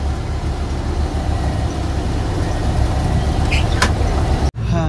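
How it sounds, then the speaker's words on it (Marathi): An MSRTC Shivshahi bus travels on the road from Pune to Vengurle, its engine and road noise forming a steady, loud low rumble from inside the vehicle before cutting out abruptly near the end. "पटकन 10 मिनिटात आपली बस रवाना झाली 150 किलोमीटरच्या प्रवासाला"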